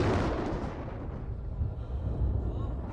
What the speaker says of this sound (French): Quelques-uns dirent que c'était le tonnerre,